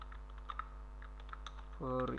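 Close computer keyboard keystrokes tap out in an irregular sparse rhythm while code is entered, over a steady low hum, ending in a brief tonal computer sound.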